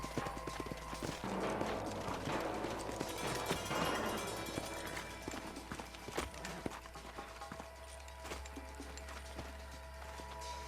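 Steady clip-clop of horse hooves trotting in the video game Red Dead Redemption, over a busy background of music and ambient noise, continuous and moderately loud throughout.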